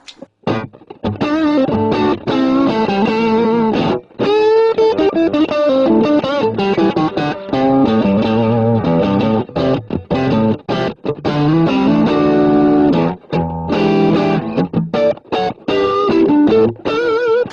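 Distorted electric guitar played continuously through a Digitech CabDryVR cabinet simulator and BB preamp, chords and riffs with a boxy, amp-like tone, loud and steady with brief gaps between phrases.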